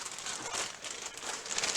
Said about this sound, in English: I'm going to put this in the plastic bag.